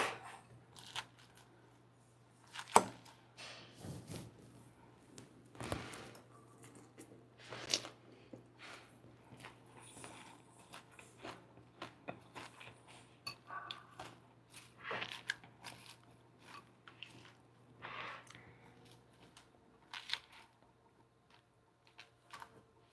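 Crunchy bites and chewing of a fresh salad of romaine lettuce, cabbage, red onions, cucumber and tomatoes, served with fried chicken, heard close up as irregular crisp crunches over a steady low hum, with no talk.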